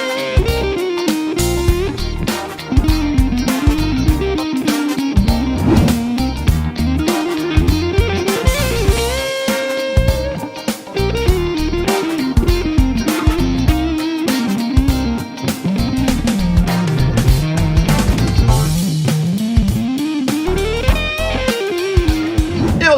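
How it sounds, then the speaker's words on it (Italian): Electric guitar played through a fuzz distortion pedal, heavily saturated and sustained, with loud continuous riffing and bent notes running steadily throughout with no voices. "fino al suono fuzz super distorto"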